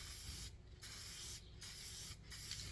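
Montana Gold spray paint spraying from a can in three short, sharp hissing bursts separated by brief pauses, close and fairly quiet, with no talking.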